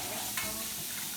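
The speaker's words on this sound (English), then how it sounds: "Gonna rinse it off here. Rinse it off real good." Sea moss being rinsed under running tap water, a steady broadband splashing wash with a brief louder burst near the start, with no voices.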